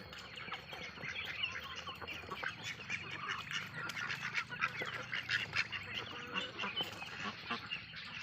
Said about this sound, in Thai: เป็ดไข่ขังเรียบร้อยแล้ว